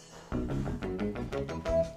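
Bass guitar melody played slightly ahead of the beat, a run of plucked notes with quick attacks and short decays, close and clear with nothing else playing.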